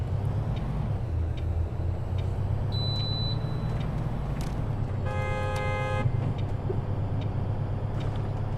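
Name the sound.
car horns honking in the City Transport Simulator video game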